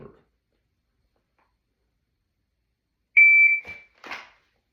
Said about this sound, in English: Looking for that timer, looking for that beep.